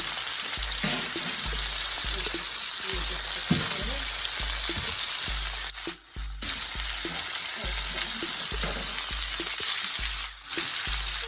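Chicken pieces for Puerto Rican arroz con pollo sizzle and fry steadily in a pan, a continuous close crackle with the repeated scrape and knock of the pieces being stirred and turned.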